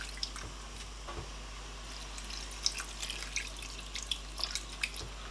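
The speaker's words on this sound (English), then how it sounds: "after 5 minutes, I'm going to add a bit of water" Water is added to a pot of boiling tilapia fish stew, Nigerian style. Light splashes and scattered drips patter irregularly at close range, with no talking.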